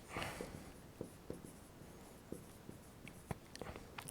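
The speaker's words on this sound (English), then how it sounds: "Let me write unique" Pen or chalk strokes while writing out a number theory proof, with quiet, close scratches and taps in an irregular rhythm over a faint background.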